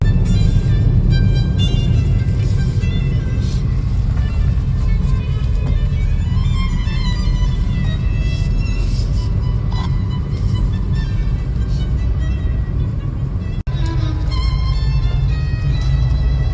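Car driving along Kalaklan Road past mountains and ocean, heard from inside as a steady low engine and road rumble with tire noise that holds level throughout, without talk.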